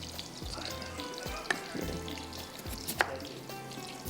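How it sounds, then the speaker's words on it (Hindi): Small chopped potato pieces frying in a pan for aloo korma, a continuous close sizzle with bubbling crackle and a few sharp utensil clicks, no talking. "जब तक ये फ्राई हो रहे हैं"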